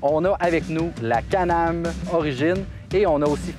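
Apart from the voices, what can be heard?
None of the usual background noises is heard.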